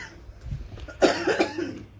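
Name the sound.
coughing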